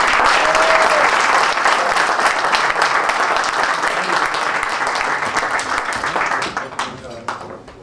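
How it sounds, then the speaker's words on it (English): A fundraiser audience gives the mayor a loud round of applause, dense clapping with cheering voices that continues strongly, then thins to scattered claps near the end. "let's give Mike Brennan, my mayor, your mayor, a round of applause"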